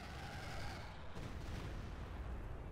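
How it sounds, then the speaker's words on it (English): An artillery barrage in Company of Heroes 2 rumbles as a continuous, low, muffled roll of distant blasts, heavy and dense throughout. "Here comes the barrage."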